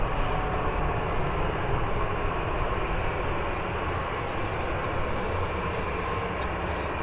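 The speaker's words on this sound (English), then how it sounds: "Qatar's working its way down the taxiway already. The first of at least 3 Dreamliners today." Qatar Airways Boeing 787 Dreamliner taxiing at Birmingham Airport, a steady distant broadband jet roar with constant engine whine, no voices.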